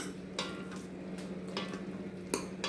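Cooked sponge gourd dal with garlic being stirred in a pot, giving a few short metallic scrapes and clinks of the spoon against the pot over a steady low hum, fairly quiet and without talk.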